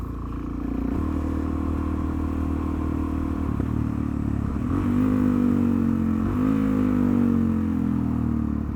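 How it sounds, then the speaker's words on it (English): A motorcycle engine hums steadily at close range, its pitch sliding down over several seconds as the bike slows under engine braking, with no talk. "Nice amounts of engine braking."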